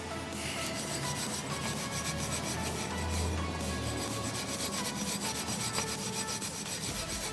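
Continuous scratchy rubbing strokes of an abrasive fiber pad against rusty car body metal, fairly quiet and steady, with no talking.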